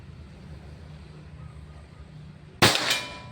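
A single sharp, loud crack from a Bocap Pajero Gun Gen 6 air rifle, its fifth shot, breaks through quiet background hum close to the listener.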